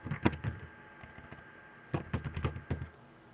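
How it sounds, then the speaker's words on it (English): Close, quiet clicks of a computer keyboard come in two quick bursts of typing, separated by a brief, near-silent pause. "So I'm going to type in a correction of were invented."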